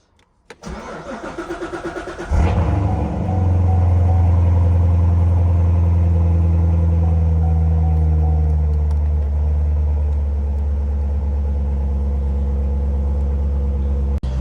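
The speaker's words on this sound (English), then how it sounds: "Start the car, put the clutch in," A Chevrolet Corvette C7 Z06 engine cranks briefly, catches with a loud roar, then settles into a steady, deep idle rumble that holds close and loud for the rest of the clip.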